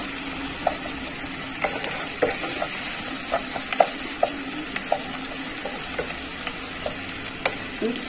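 Chopped onion fries in a pan for a leftover-rice fried rice dish, giving a steady mid-level sizzle dotted with light, irregular clicks and taps from stirring.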